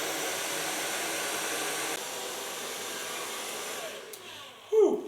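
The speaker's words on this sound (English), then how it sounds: "So far blow drying." A hair dryer blow-drying hair during a salon cut and color, a steady loud whooshing airflow that runs continuously, changing pitch slightly midway, then dips and ends with a brief rustle.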